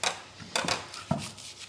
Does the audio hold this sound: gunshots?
no